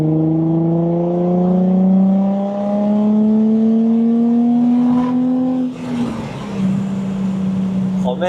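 Nissan 350Z engine revving hard under acceleration, a rising loud drone heard from the cabin that drops sharply at a gear change before building again, with people talking briefly near the end.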